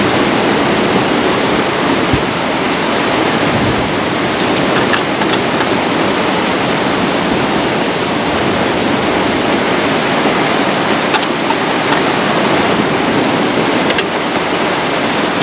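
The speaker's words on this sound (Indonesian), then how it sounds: "Hujan lebat lagi." A steady, dense roar of heavy rain, loud and unbroken throughout, with no voices.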